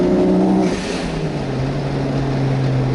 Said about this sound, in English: as you might have heard, that was the fuel cutting out